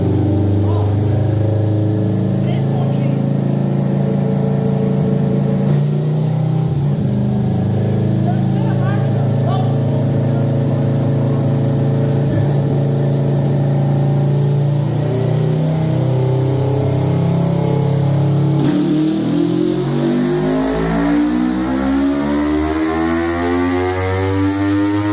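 Motorcycle exhaust idling with a deep rumble, then revving up and down, loud and close throughout, with someone talking over it.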